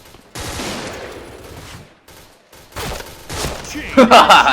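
Gunfire from a gun in the Point Blank shooting game rings out in loud, dense bursts. A short gap breaks the shooting partway through, and a heavier volley of shots closes it.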